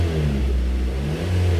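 A 2010 Honda CR-V with a lean-running fault (P0171) has its engine revving under acceleration, heard as a loud, steady close-up drone with a slight dip partway through.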